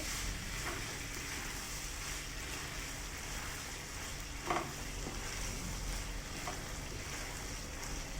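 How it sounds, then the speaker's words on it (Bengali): Chickpeas cooking with yogurt in a pan for a kabuli chana dish, a constant dense hiss of sizzling with soft stirring scrapes, one brief knock near the middle, fairly quiet and steady throughout. "দিয়ে ভালো করে মিক্স করে নেব"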